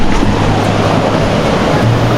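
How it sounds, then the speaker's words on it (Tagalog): Steady, dense rushing of falling water at Pagibig Falls, a loud continuous roar heard from nearby along a muddy trail, with no talking. "So narinig nyo yung bagsak ng tubig."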